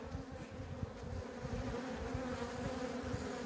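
Dense, continuous buzzing of many honeybees close by at an opened hive in October in Ardahan, Turkey, a steady droning hum with occasional louder passes.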